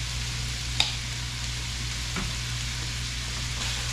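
Minced garlic fries in a stir-fry pan with broccoli, giving a steady, soft sizzle. A couple of faint clicks from the pan or utensil break the sizzle, and no one speaks.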